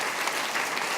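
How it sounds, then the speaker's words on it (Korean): A church congregation at a Sunday worship service applauds in welcome. A brief, steady burst of moderate, dense clapping fills the whole second. "우리 큰 박수로 다시 한번 환영하겠습니다."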